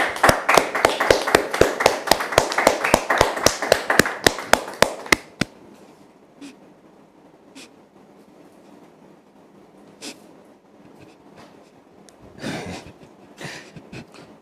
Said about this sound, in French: merci de le recevoir sous vos applaudissements